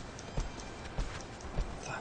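A horse galloping in the video game Shadow of the Colossus: steady, evenly spaced hoofbeats, three heavy thuds about every 0.6 seconds over a soft wind-like hiss.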